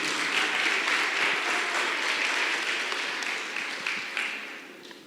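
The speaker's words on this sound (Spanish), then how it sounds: "Denle un aplauso a Dios si puede" Church congregation applauding during a sermon, a full steady burst of many hands clapping that gradually fades toward the end, moderately distant, with no speech over it.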